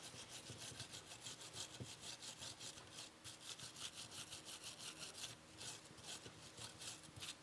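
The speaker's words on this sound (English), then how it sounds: "now we're gonna get the caliper and clean it using a wire brush" Wire brush scrubbing a front brake caliper of a 2017 Kia Sportage, a faint rapid back-and-forth rasping scratch repeating in quick even strokes.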